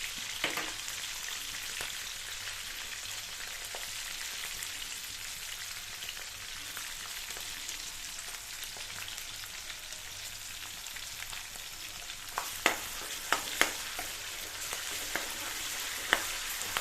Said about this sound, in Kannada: ಇದು ಹಸಿ ವಾಸನೆ ಹೋಗೋ ಥರ ಫ್ರೈ ಮಾಡಿ